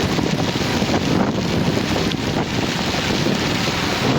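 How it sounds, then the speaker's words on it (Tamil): Storm wind during heavy rain on Jaffna streets blows as a constant, dense roar, buffeting the microphone with low rumbling gusts and no pauses. "காற்று வீச தொடங்கிட்டு நினைக்கிறேன்."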